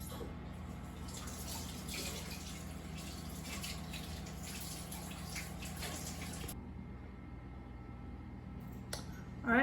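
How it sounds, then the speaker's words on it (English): Hands rinsed under a running kitchen tap: a steady close splash of water for several seconds, then the flow cuts off, leaving near quiet before a brief clatter at the end. "I'll rinse my hands real quick."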